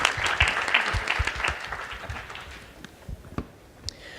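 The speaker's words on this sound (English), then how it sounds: "So please give a round of applause." Applause from the audience at a women-in-tech panel greets a panelist, with scattered individual claps that thin out and fade into sparse taps.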